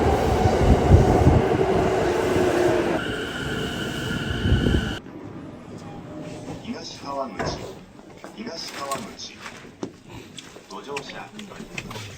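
A train in Japan running in winter, heard from on board: a loud rumbling roar for the first few seconds, then a quieter interior hum with clicks and a voice talking over it.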